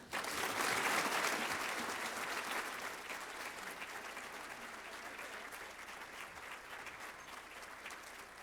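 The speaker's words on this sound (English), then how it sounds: "And while you're clapping, let's give a huge round of applause to all of our fabulous inductees." Sustained audience applause fills a hall at the Montgomery County Business Hall of Fame 2021 awards ceremony. It is dense and steady, loudest in the first few seconds, then eases slightly but keeps going through the end with no one speaking.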